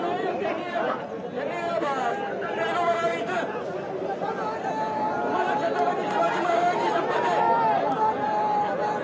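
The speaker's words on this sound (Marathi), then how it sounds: "काकासाहेब शिंदे यांच्या अंत्यविधीसाठी मोठी गर्दी गोदातीरी जमली होती" A large crowd gathered on the Godavari riverbank for a funeral produces a steady, dense babble of many voices throughout, with a few calls rising above the murmur.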